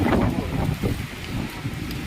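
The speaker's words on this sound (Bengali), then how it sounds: "একটু বাতাস ঝড় বইছে অনেক জোরছে ঝড় হচ্ছে" Strong storm wind gusts across a rooftop during rain in Farakka, Murshidabad, making a dense, steady roar of buffeting wind noise with no voices.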